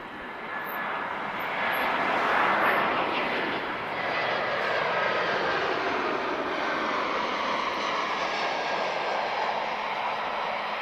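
Airbus A319 airliner engines at Lisbon Airport make a steady, broad jet roar that swells slightly and then holds at a constant level throughout.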